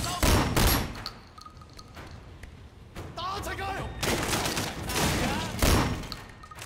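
Shotgun blasts in the Sleeping Dogs video game, several loud, booming shots fired in irregular bursts, with voices and other game noise mixed in between the shots.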